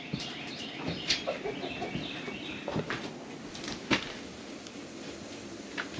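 Chickens cluck inside a chicken coop, giving a busy, fairly close chorus of short clucks and calls with some scattered knocks and rustles.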